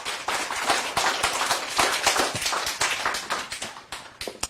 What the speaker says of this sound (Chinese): 来鼓掌一下